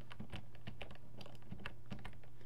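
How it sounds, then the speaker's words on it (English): Computer keyboard keys pressed in a quick Control+Z undo shortcut while editing in Photoshop, giving a run of crisp, close clicks at an uneven pace with no talking. "I'm just pressing Control and Z on my keyboard and undoing that"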